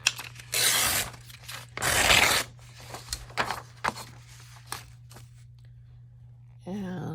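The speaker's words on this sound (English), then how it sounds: "I'm going to sort of rip off this edge" Paper is torn away along its edge for an altered envelope: two close, rasping rips, followed by scattered small crinkles and taps against a low steady hum.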